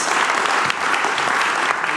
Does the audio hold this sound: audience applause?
yes